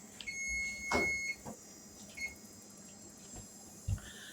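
A kitchen timer beeps in a home kitchen during soup cooking, a thin steady high tone sounding for about a second amid quiet background clatter, followed by a few soft knocks.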